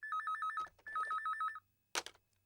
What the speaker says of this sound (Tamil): எவன்டா இது இந்நேரத்துக்கு ஃபோன் பண்றான்?